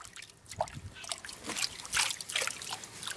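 Water sloshes and trickles in a gold pan as dirt from a Coolgardie bucket is worked, a close, uneven run of small splashes and dribbles with no one talking.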